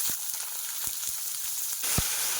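Potato pieces frying in oil, a bright continuous sizzle close by, punctuated by several soft knocks from the pan and utensil.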